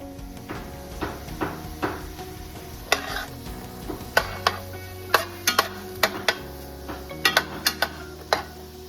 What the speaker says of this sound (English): now we're gonna saute the onions